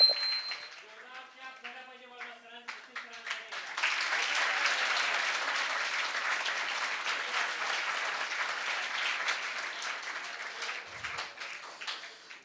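An audience claps loudly for a guest named Sachin at a Marathi public event. A voice speaks over the first few seconds, then steady applause swells and holds for the rest of the clip.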